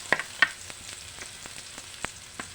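Ginger for escabeche tilapia fries in a pan with a quiet hiss. Irregular light pops and crackles stand out from the hiss.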